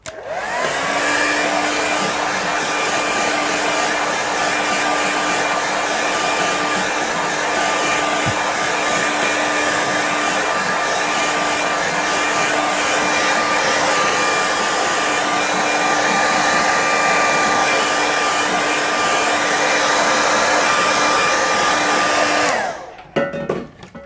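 A hair dryer blows continuously for over twenty seconds, drying a watercolour painting up close, with a steady loud whir that cuts off abruptly at the end.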